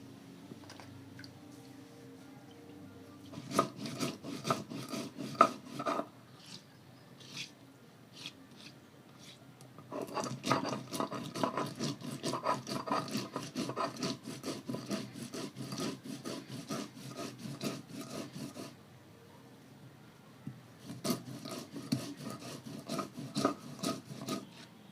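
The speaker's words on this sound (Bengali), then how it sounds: "এবার আমি সর্ষেটা বেটে নেব।" Mustard seeds being ground into a paste on a stone, heard as rhythmic rasping and scraping strokes in bursts separated by short quiet pauses, close by, with no speech.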